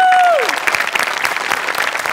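A studio audience at a Marathi comedy show breaks into steady, close applause, many hands clapping evenly after a brief falling tone at the start.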